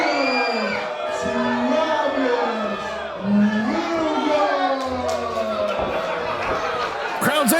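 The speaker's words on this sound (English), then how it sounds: "Crowd's angry for two reasons." A wrestling event crowd voices anger in a loud, continuous mix of shouting, jeering and bellowing, with individual yells rising and falling over the roar.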